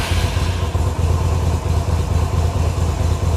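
A carbureted 2015 engine idles steadily just after a choke start, a loud, even low rumble with a fine rapid clatter running throughout, close and alone.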